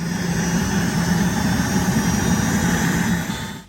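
An MTT Y2K turbine superbike engine running with a continuous, loud whining roar and low rumble, holding steady before tapering off at the very end.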